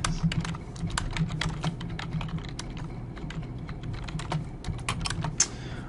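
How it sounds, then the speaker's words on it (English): Typing on a computer keyboard, a close, fast, uneven run of light key clicks with brief pauses and no voices over it. "And I can just type my blog entry right in here."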